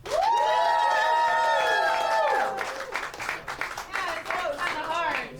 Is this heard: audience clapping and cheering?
yes